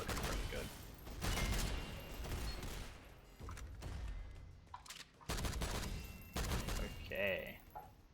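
The Eliminator gun in SYNTHETIK fires in loud, close bursts of heavy shots separated by short pauses, with booming impacts and rattling tails after each volley.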